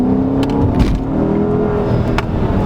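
A 2016 Dodge Charger R/T Hemi pulls hard in second gear, a loud, sustained engine drone heard from inside the car, with a few faint clicks and no voices.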